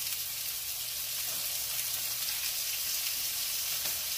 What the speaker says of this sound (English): they put some grease in the pan to fry some burgers